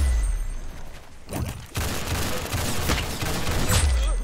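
Gunfire in the Roblox game Arsenal, bursts of rapid shots crackling in the foreground with short pauses between volleys, loud and close, no talking.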